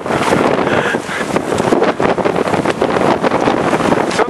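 Storm wind roars across the summit of Mount Shirouma (Hakuba-dake), buffeting the microphone in loud, continuous gusts with no talk.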